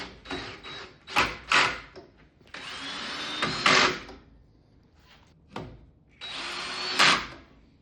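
A power drill drives screws into the facing of a rip fence in short bursts, each whine rising and stopping, with clattering handling noises and quiet pauses between.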